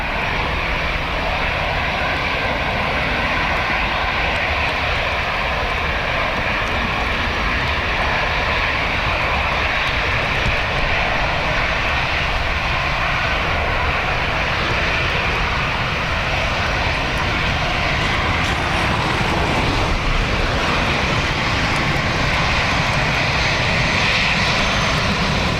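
Airliner engines roar steadily at Dublin Airport on a windy, wet day, a loud continuous rumble and whine with gusty wind noise throughout, no voices.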